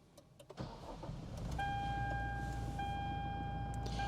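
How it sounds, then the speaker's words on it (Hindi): A 2023 Toyota Fortuner starting up: a few clicks, then the starter cranks and the engine catches into a steady, fairly loud idle, while a chime tone sounds through the second half. "आइए दोस्तों गाड़ी को स्टार्ट करते हैं।"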